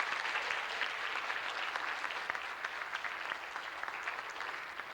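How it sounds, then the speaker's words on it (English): Steady applause from an elementary school audience at a DARE graduation ceremony for the parents, moderately distant and sustained throughout without talk. "so let's give our parents a good round of applause"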